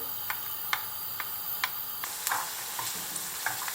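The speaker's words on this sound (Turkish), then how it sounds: "E, soğanı biraz pişiriyorum, öldürüyorum. Sarımsağı da üzerine ekliyorum." Chopped onions and garlic sauté in a pan for kısır, a steady soft sizzle broken by sharp, evenly spaced ticks and scrapes of a spoon against the pan, close and fairly quiet, with no talking.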